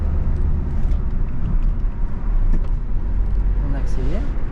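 A car accelerating during a driving lesson gives a steady, close, low engine rumble throughout, with a brief voice heard near the end.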